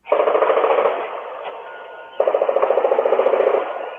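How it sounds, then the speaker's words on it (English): Multiple rounds of gunfire near a church, captured in a news recording, sound as two rapid, rhythmic bursts of shots through a thin, band-limited recording, with a short lull between them. "Near the church also captured what seemed to be multiple rounds of gunfire."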